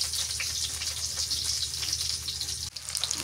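Chopped onion frying in a pan produces a dense, hissing sizzle close up, with a sudden knock near the end followed by slightly louder crackling, no one speaking.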